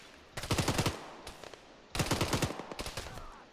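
Gunfire in the Arma 3 military simulation: two sustained automatic bursts of rapid, sharp shots, with a few scattered single shots between them, moderately loud and with no talking.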